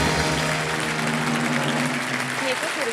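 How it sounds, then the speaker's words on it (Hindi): Studio audience on the Hindi quiz show Kaun Banega Crorepati applauds a correct answer, steady loud clapping filling the whole stretch with faint voices and music underneath. "ताली बज गई, बताने की जरूरत नहीं है"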